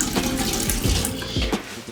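Water running steadily from a sink tap while hair is wetted beneath it, a close, continuous splashing gush with uneven sloshing as the stream hits hair and basin.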